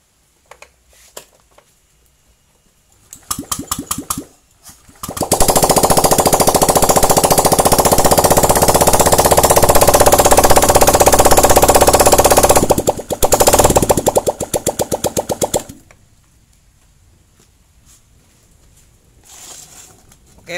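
Honda Vario 125/150 fuel-injected motorcycle engine started after a full rebuild: brief sputtering bursts, then a loud, steady buzzing run of several seconds, a stutter, another stretch of rough running, and it dies away.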